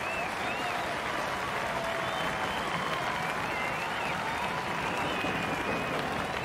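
A large cricket crowd at Bellerive Oval in Hobart applauds and cheers a Sri Lankan shot during a 1988 match against New Zealand, steady loud clapping and roaring filling the whole stretch.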